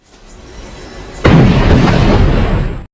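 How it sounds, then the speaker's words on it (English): A missile explosion bursts in with a loud, sudden boom after a rising rumble, then a sustained roaring blast that fades out, with no voices. "The powerful explosion knocked him down and almost knocked him out."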